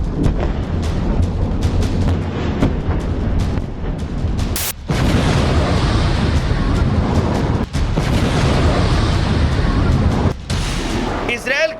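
A continuous, dense roar of cluster bomb blasts and booming detonations, loud and close, with brief sharp cuts between bursts and no clear speech.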